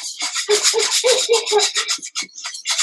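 Lasagne sauce being whisked in a big pan, a rapid run of scraping, rubbing strokes of the whisk against the metal, close and fairly loud, with short pauses between bursts.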